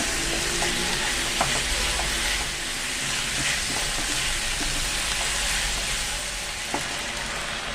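Paneer cubes stir-frying over a high flame, a dense, loud, continuous sizzle filling the space with occasional faint clicks of a spatula, close and steady, with no voices.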